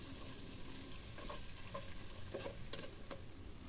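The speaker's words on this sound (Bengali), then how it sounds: "আদা রসুন বাটা দিয়ে আমি এগুলো একটু ভেজে নেব, যাতে করে কাঁচা গন্ধটা চলে যায়।" Rooster meat frying with ginger garlic paste while it is stirred in the pot: a steady low sizzle with intermittent scraping stir strokes, close and moderately quiet, no voices.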